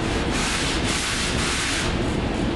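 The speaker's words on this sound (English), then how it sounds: "Now we're going to switch over to 150 grit on a hand board." Body filler on a 1968 Pontiac Firebird is hand sanded with 150 grit paper on a hand board, giving a loud, continuous, close scratching rasp that swells and eases with each back-and-forth stroke.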